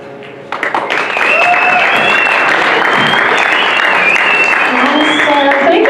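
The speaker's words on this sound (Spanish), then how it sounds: "Can we get another big round of applause?" An audience at a church service bursts into applause after a quiet moment. The clapping quickly swells into loud, sustained cheering with whistles and shouts cutting through.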